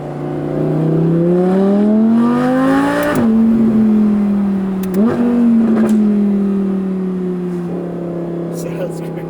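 An Audi R8 fitted with an aftermarket exhaust cruises with a low, steady growl that rises and falls with gentle shifts in engine pitch, close and loud, while a person talks over it.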